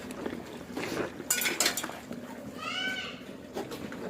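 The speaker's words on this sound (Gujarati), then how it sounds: "મારે હજી ઘસવા પડશે વાસણ." Metal pots and dishes being scrubbed and washed by hand, with clinks and clattering knocks in short bursts, a faint animal call partway through and some background voices.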